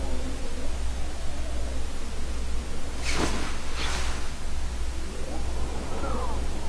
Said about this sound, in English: Oh, I hear wind.